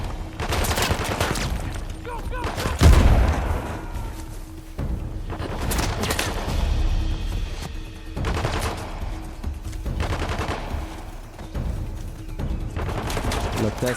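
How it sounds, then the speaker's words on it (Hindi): Silenced pistol and other gunfire from the video game Uncharted: The Lost Legacy, with repeated bursts of shots and a sharp louder hit near the start over constant game ambience and combat noise, running throughout. "यार इस साइलेंस पिस्टल से तो कोई मरता ही नहीं है"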